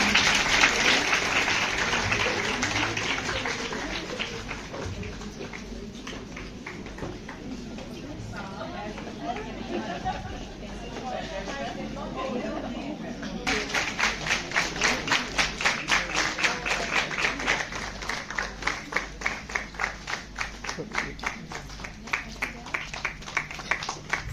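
Audience applauding at a school retirement ceremony for pre-primary teachers, steady rhythmic clapping from many hands filling the room, rising into louder, more regular beats in the second half, with voices talking over it.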